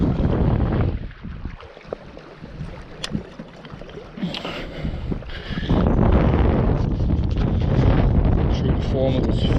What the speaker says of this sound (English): give it a try in the hope that this wind's going to drop off.